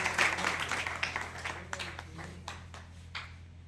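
Applause from an audience at a public event, fairly faint and scattered, with individual claps standing out as it thins toward the end.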